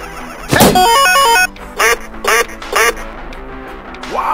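A cartoon duck in the point-and-click game Deponia Doomsday lets out a sharp smack and then a loud burst of squawking, followed by three separate quacks in a row.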